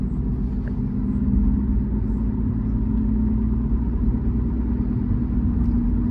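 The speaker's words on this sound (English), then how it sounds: "The stock exhaust on the GTR literally sounds like a vacuum cleaner." A Nissan GT-R with stock exhaust and run-flat tires cruises along, its cabin filled with a steady low road and tire rumble and a muted engine drone, continuous and unchanging throughout.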